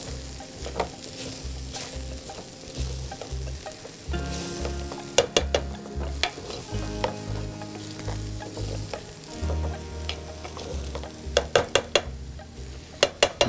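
Ingredients for spicy pickle-style achari khichuri fry in a pan, giving a steady sizzle. A spoon stirs and scrapes in rhythmic bursts, with sharp clinks against the pan near the end, and no talk.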